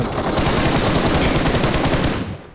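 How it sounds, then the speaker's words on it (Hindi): Rapid automatic gunfire in the BGMI video game rattles loud and close in a dense continuous burst that cuts off abruptly at the end. "ये देखो वहां से गोली चलने लगती है"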